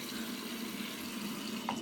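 Steady faucet stream running into a sink while a washcloth is rinsed under warm water, an even close hiss throughout with no talking.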